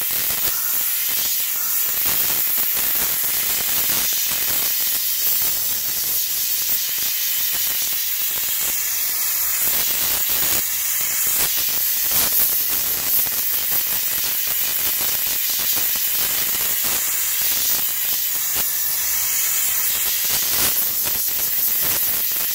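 A powerful steam cleaner blasts upholstery to lift a stain, giving a loud, continuous close-up hiss that barely changes for the whole stretch, with no voices.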